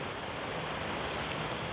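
Typhoon surf and strong wind at Songjeong beach make a loud, unbroken broadband roar with heavy wind buffeting against the microphone and no distinct wave breaks.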